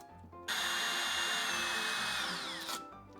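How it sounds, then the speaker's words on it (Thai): A power drill bores a hole while installing lighting inside a cabinet, starting abruptly and running as a loud, steady high-pitched whine for about two seconds, then winding down and stopping. "แล้วเราก็เจาะรูเหมือนเดิม"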